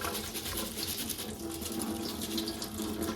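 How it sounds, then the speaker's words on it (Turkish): Rice is washed under plenty of running water from a kitchen tap, a close, steady rush and splash of water into a bowl or sink, heard alone with no voices. "Evet pirincimizi bol suyla yıkıyoruz."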